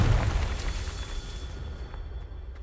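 Confringo blasting spell explosion in Hogwarts Legacy, a heavy low boom that rolls and decays over a couple of seconds, with faint crackles trailing off into quiet.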